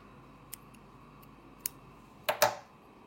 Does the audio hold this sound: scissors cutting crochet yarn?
yes